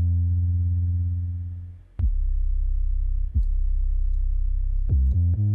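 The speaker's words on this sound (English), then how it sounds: "One of the key things that you're going to notice in the drop is this 808 that we have here." Deep, sustained 808 bass notes in an emo rap beat programmed in Ableton Live 10, booming loudly with a long tone, then sharp retriggers around two and three seconds and a quick stuttering run of hits near the end.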